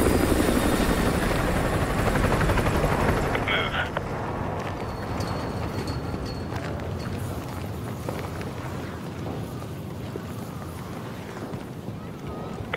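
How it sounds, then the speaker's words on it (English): A helicopter in the Call of Duty Modern Warfare 2 Remastered campaign drones steadily with a loud continuous rotor roar that eases slightly after a few seconds, with voices heard over it. "Chopper inbound. Keep low."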